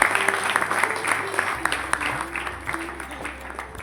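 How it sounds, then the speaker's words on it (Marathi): An audience at a music school's singing competition applauds to welcome a young singer, the steady clapping sounding close over a low droning tone. "आपण टाळ्या वाजवून त्याचं स्वागत करूया."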